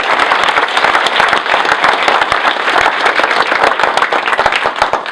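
A rally crowd at the Capitol applauds vigorously, with sharp, close individual claps standing out as distinct cracks over a dense wash of clapping for about five seconds.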